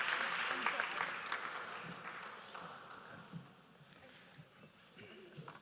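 Audience applause at a school district's celebration of excellence awards evening starts full and loud, then thins and fades over a few seconds as scattered claps trail off and voices take over.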